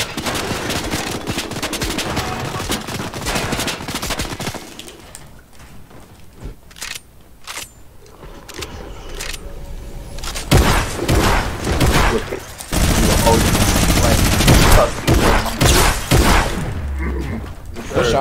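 Rapid video game gunfire rattles in loud bursts, dropping into sparse isolated shots and thumps before heavy sustained firing returns, with people talking over parts of it.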